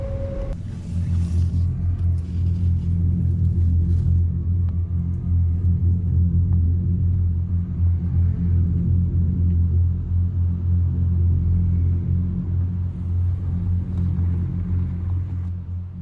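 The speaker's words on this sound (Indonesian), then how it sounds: "Sekitar pukul 3 pagi, Valeri sedang tidur ketika mendengar suara mobil." A car engine idles and rumbles low and steady at night near a forest campsite, a continuous drone that holds for the whole stretch after a brief start.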